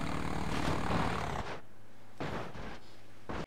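A propeller aircraft engine in a PC flight simulator game at about half throttle, a loud steady droning roar that drops off suddenly, then swells briefly again in short surges.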